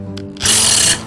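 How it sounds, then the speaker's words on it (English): A power drill whirs into a hole at high pitch for about half a second, winding down, with faint motor hum before and after, drilling holes for arm straps. "drilling these holes takes such a friggin' long time"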